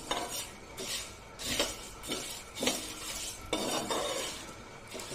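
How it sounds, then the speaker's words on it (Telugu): Spices dry roasting in a pan with no oil, a utensil scraping and stirring them in repeated rhythmic strokes, close and moderately quiet, with faint metallic clinks between passes. "కొంచెం రెడ్డిష్గా వచ్చే వరకు వీటిని ఇలా ఫ్రై చేద్దామండి"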